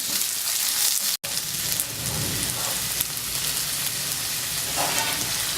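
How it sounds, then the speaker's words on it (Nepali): Potatoes fry in a pan with a steady, dense sizzle and crackle, close and even, broken by a brief instant of silence near the start before the hiss resumes. "आलु फ्राई हुन लागेको छ।"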